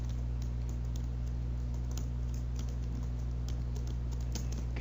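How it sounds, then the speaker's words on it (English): Rapid typing on a computer keyboard: a fast, steady stream of close, crisp key clicks over a low electrical hum, with no voices. "I'm going to type real fast here."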